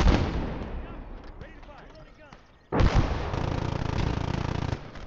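.50 cal machine gun firing in the video game Call to Arms: Gates of Hell, battle noise fading, then a loud sustained burst of rapid heavy fire that cuts off near the end.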